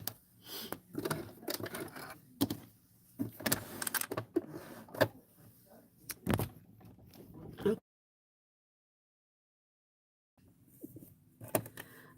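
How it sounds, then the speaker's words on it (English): A sewing machine top stitches along the edges of fabric gussets in quick motor bursts with short pauses. It falls silent for a few seconds, then starts up again near the end. "now we're going to top stitch on both edges, on both gussets"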